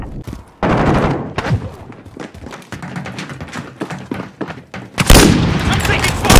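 Cluster strike explosions and gunfire in a Call of Duty match, with loud bursts of shots and heavy blasts cutting in and out, ending in a sustained roaring barrage, while a voice talks between them.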